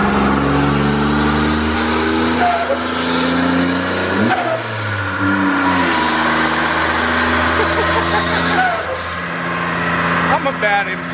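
Engine of a turbocharged, 300,000-mile Toyota 4Runner revving hard as it accelerates on the road, a loud steady drone whose pitch climbs and shifts through gear changes, with people talking over it.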